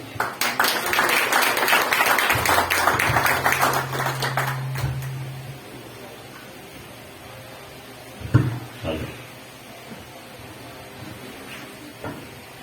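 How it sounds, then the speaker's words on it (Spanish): A church congregation applauds a preacher, with a burst of clapping in the opening seconds that fades out, followed by a few scattered knocks and a low hum. "un aplauso de cariño para el siervo."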